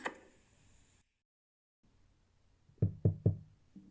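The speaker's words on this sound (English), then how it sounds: "Knock, knock." Three sharp knocks on a door in quick succession, close and fairly loud, following a stretch of near silence.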